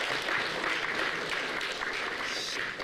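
Audience applause at a Lunar New Year event with Chinese high school students at Asia Society, a dense wash of steady clapping from a crowd, sustained and fairly loud throughout.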